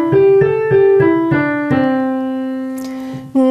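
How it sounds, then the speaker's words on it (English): A pentatonic scale played as a pop-rock singing demonstration, a run of separate sustained pitched notes stepping along before settling on a long held tone, close and fairly loud, alone without talk. "The pentatonic scale sounds like this."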